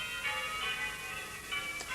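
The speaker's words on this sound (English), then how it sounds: "came the sound of distant bells, the joyful peals of Christmas time." Distant Christmas bells peal in a soft, steady wash, their high ringing tones swelling and fading gently at a far remove with no voices present.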